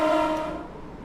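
A train from a Train Sim World 2 sound mod sounds a brief, loud, steady horn-like tone that fades over about a second, with no talking.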